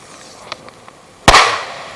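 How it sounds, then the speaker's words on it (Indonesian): A firecracker goes off outdoors with one sharp, loud bang and a decaying rumble, after a few faint small pops. "mercon."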